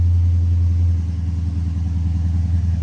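Dodge Challenger SRT8 V8 idling through its SRT exhaust, a steady deep low rumble with a slight pulsing throb, close and continuous with no voices.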